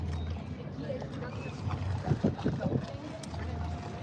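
Boat passing on open water near Miami, a steady low engine rumble and wash under wind noise on the microphone, fairly close and continuous throughout.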